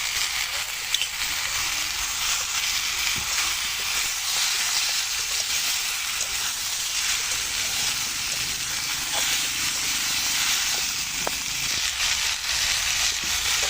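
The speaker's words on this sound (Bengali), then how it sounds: "মশলা দিয়ে ভালো করে কষিয়ে নিলাম তরকারির সাথে।" Bottle gourd and puti fish curry sautéing in a pan with spices, ginger and cumin: a loud, continuous oily sizzle and hiss with faint stirring scrapes, close by with no talking.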